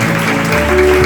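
A church congregation clapping at a Christmas service, with a dense, continuous wash of applause under sustained tones and background music.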